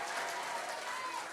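Applause from a church congregation at an anniversary worship service in Dubai, a dense, steady wash of clapping that stays loud and even throughout, with no pauses.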